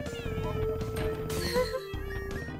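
Cartoon cats meow in the Crashy Cats video game, a run of bright, overlapping meows and squeals laid over busy game music, loud and continuous, with no clear talk.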